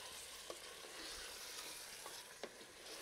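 Tomatoes and chilies being stirred into browned chicken in a cooking pot, a soft continuous sizzle with occasional faint scrapes of a spoon, fairly quiet and steady.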